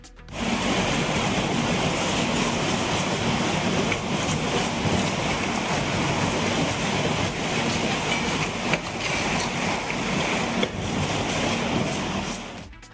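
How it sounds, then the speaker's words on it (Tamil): A train rolls slowly along flooded railway tracks during heavy rains in Rajasthan, producing a dense, continuous rumble and rushing water-like noise that stays loud and steady throughout, with faint clacks breaking through. "தண்டவாளங்கள் நீரில் மூழ்கியிருப்பதால் ரயில்கள் குறைந்த வேகத்தில் இயக்கப்படுகின்றன"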